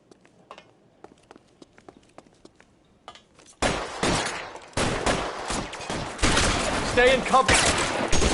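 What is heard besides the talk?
gunfire in video game L.A. Noire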